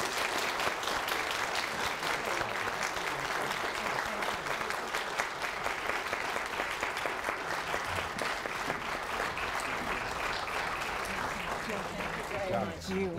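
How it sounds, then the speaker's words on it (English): A studio audience breaks into sustained applause at the close of a 2014 gubernatorial debate, steady clapping throughout with voices talking over it. "the audience, which has been so patient and promised us it would hold its applause, may now do what it wants to do"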